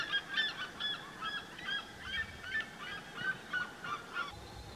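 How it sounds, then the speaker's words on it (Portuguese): Red-legged seriemas call from a distance in open countryside, a rapid series of harsh, yelping notes repeating in a steady rhythmic chorus for several seconds, faint against low background noise, with no talk. "Outra parte mais à frente, novamente, cantoria das siriemas."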